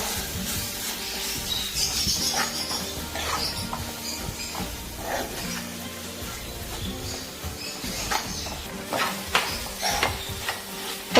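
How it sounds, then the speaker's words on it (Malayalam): Spice powders frying in coconut oil in a pan while a chicken dish is cooked, with a steady close sizzle and repeated scraping and stirring of a spoon against the pan throughout, no talking. "ഇനി കുറച്ച് വെളിച്ചെണ്ണ ഒഴിച്ചെടുത്ത് പൊടികളെല്ലാം നന്നായിട്ട് തന്നെ മൂപ്പിച്ചെടുക്കാം കേട്ടോ"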